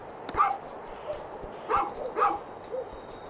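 A small dog barks in A Juggler's Tale, a video game: four sharp yapping barks spread unevenly over a few seconds, close and fairly loud against a quiet background.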